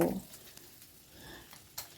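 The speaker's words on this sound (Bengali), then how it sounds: "একটু ফ্রাই প্যানটা একটু নাড়িয়ে নাড়িয়ে ভালো করে ভেজে নেব।" Five boiled eggs fry in a pan and are stirred around with a spoon, a soft, steady sizzle with faint scraping at the start and a brief utensil clink near the end.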